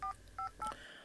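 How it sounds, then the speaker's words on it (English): Three keypad tones as a mobile phone number is dialed, short clean electronic beeps spaced evenly about a third of a second apart, close and quiet, with no talking. "pulling his phone from his jacket pocket and dialing a number"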